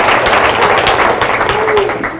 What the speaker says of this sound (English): Ladies and gentlemen, a round of applause for 3 great volunteers.